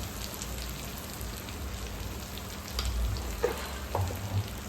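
Soft sizzling from rice frying in a pan for pulao, with a few quiet scrapes and knocks of stirring, close by and fairly low in level, no talking.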